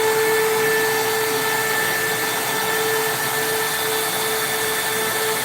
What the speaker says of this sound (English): We're going to be drilling into 304 12 gauge stainless steel.